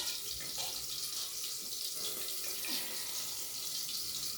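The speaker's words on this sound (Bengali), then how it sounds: "মশলার ধোয়া জলটা আমি দিয়ে দিলাম অল্প করে" Spice-rinse water poured a little at a time into a light fish curry with potato and aubergine, giving a steady, close, hissing splash that runs unbroken throughout, with no voices.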